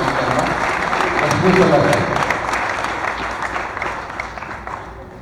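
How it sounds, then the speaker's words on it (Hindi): Audience at a mushaira in Raipur breaks into loud, sustained applause that swells in the first two seconds and then tapers slightly, with no voices over it. "एक बार ताली बजाकर आप इजाज़त दीजिए"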